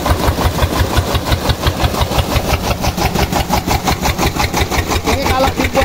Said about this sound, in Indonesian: meskipun mesin santai, putaran di pompa itu kencang sahabat petani ya